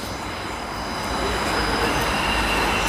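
A Transwa Prospector railcar set pulls into a station, its steady rumble and rail noise rising slightly and holding continuous and fairly loud throughout, with no voices.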